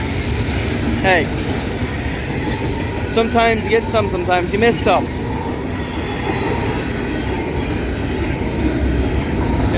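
A CSX mixed freight train led by a freshly rebuilt CM44 locomotive rolls steadily past toward New Castle, a continuous loud rumble with screeching wheel squeals in the middle; someone speaks briefly over it.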